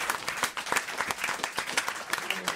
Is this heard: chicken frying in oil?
no